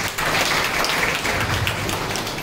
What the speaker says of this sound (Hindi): तो हम हमारे तमाम आर्टिस्ट के लिए और अपने लिए जोरदार तालियां तो बजती हैं